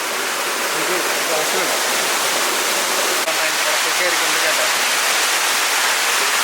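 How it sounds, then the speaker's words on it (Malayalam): Dense, steady hiss of heavy rain pouring down in a forest, loud and unbroken from start to end. "ഇവിടെ മഴ പെയ്യുന്നുണ്ട്"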